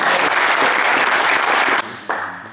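Brief burst of applause from spectators at a hunting-hound pack competition, dense clapping that dips sharply for a moment before resuming more thinly.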